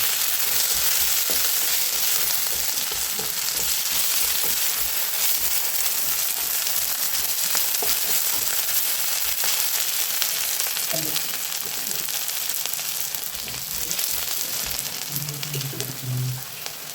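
Chopped onions sizzle in hot oil in a kadai and are stirred until golden for an Assamese duck curry with ash gourd, making a continuous close frying hiss with intermittent spatula scrapes toward the end.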